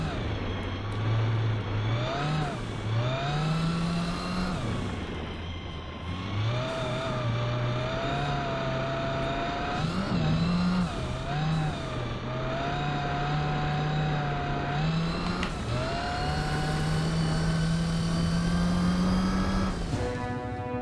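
A race car engine drones steadily in Gran Turismo 4, pitch rising through gears and dipping under braking as it laps a track, loud and continuous throughout.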